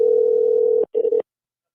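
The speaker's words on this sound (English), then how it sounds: "All right, Johnny Mags, I'm calling you with my regular number." A telephone dial tone hums steadily and loudly, then breaks off briefly, resumes for a short stretch and cuts to silence.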